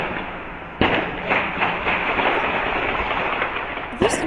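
Gunfire from a shootout in the middle of the night in North Seattle. Sharp cracks come in an irregular string over a steady, noisy outdoor background, with a few louder reports at the start and near the end.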